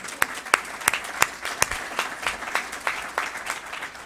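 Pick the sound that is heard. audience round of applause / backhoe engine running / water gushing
audience round of applause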